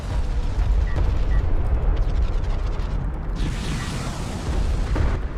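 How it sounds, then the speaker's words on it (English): Rapid railgun volleys pound an enemy carrier in a space strategy game, a dense, continuous barrage of booming impacts and bursts that stays loud throughout with no pause. "These railguns are actually going to do pretty good damage to this carrier."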